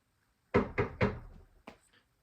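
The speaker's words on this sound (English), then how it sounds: "You hear a knock at the door." Three firm knocks on a wooden door in quick rhythm, then a softer fourth tap a moment later, close and otherwise quiet.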